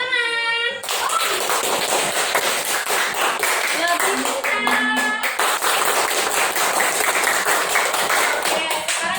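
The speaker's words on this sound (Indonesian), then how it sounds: "Tepuk tangan." Classroom of pupils clapping for a group that has just presented: sharp, rhythmic group clapping that starts after a brief spoken phrase and keeps up loud and continuous, with scattered children's voices over it.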